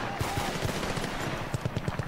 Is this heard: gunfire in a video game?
yes